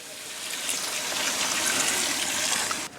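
A steady rush of water pours continuously for a few seconds into a cooking pot for khichdi, broad and hissy, close by with no talking over it.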